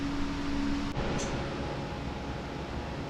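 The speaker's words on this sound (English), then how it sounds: "Pardon the fan noise in the background." An electric fan runs in a room on a hot, humid day, a steady broadband whoosh that fills the background, with a faint tonal hum that drops out early on.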